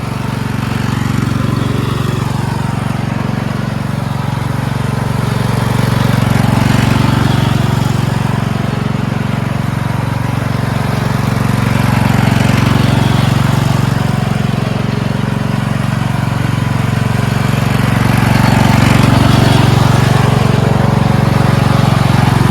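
The engine of a four-wheel-steering lawn tractor runs after a carburetor and fuel line repair, safety switches bypassed, producing a continuous loud, close drone that surges a little unevenly over about twenty seconds, with no talk.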